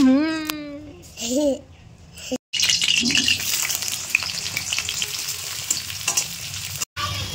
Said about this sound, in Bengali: মাছটাও তো এর সাথে সাথে ভাজা হবে